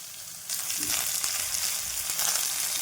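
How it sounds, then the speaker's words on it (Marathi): Coriander stems and green chilli sizzle and fry steadily in a hot pan, the crackle jumping louder after a quiet start and staying dense and continuous, with no voices. "आणि कोथमिरचे काड्या हे छान परतून घ्यायचं आपण"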